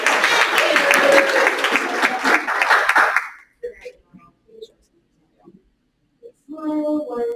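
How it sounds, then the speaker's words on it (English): Applause rings out from attendees at a school board of education meeting, a dense burst of clapping lasting about three seconds before dropping to quiet with scattered sounds, then a voice speaks. "Also, just a round of applause anyway."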